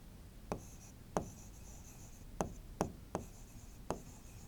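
Pen or pencil strokes on paper during a classroom lesson: about six short, separate scratches spaced unevenly, quiet and close, with no talking.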